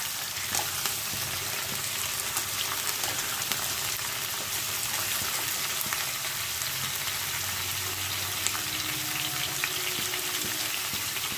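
Bitter gourd and pumpkin frying in a pan, an even, dense sizzling hiss at close range with small crackles and a few faint clinks, steady throughout.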